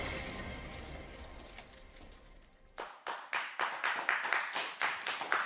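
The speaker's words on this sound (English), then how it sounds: "Oh, it's so good to get an applause." Studio audience on a live game show begins clapping partway through, the sparse individual claps growing into a rhythmic, steady beat of separate hand claps that rises in loudness toward the end.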